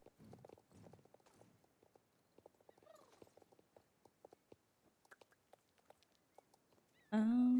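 A horse in the Star Stable game walks with clear, evenly spaced clip-clop hoof steps, close and dry. A short snort comes near the start, and a loud whinny breaks in at the end.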